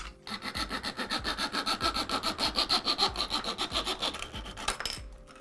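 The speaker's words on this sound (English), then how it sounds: "we're going to be using a razor saw for that" Small razor saw cutting through a plastic model part, a quick, even back-and-forth rasp of about two dozen close strokes, alone and fairly quiet, ending with a brief clatter.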